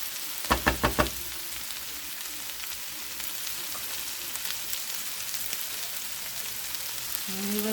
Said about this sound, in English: we will let this fry uncovered